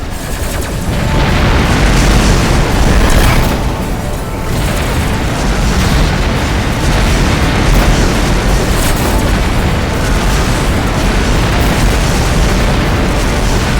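Missile explosions in the space combat game Rebel Galaxy form a loud, dense wall of booming blasts that runs without a break, one detonation rolling into the next.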